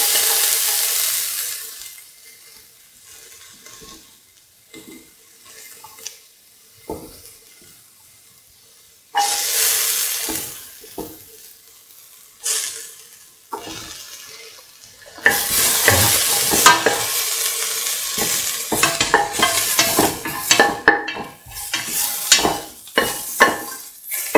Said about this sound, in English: Shallots and the cardamom together until the shallots lose their pinkish color.